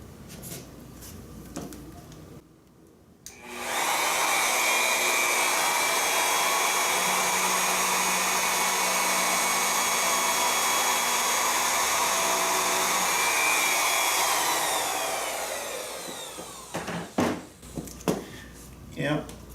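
A loud, steady router whine, cutting finger joints in a clamped board with a finger joint router bit, runs for about twelve seconds, then winds down, with brief clatter and handling noises before and after.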